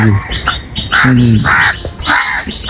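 A crow caws loudly and close by, a few harsh calls in an irregular series, with some other rough background noise.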